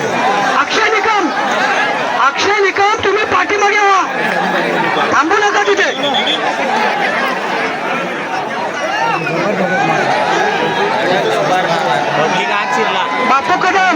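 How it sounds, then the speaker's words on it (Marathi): Crowd chatter and hubbub at an outdoor buffalo fight ground in a Konkan village, a dense, continuous babble of many voices close around, with shouts rising through the noise for the whole stretch. "मैदानात गर्दी झाली भोड भोड मैदानात गर्दी होती आहे"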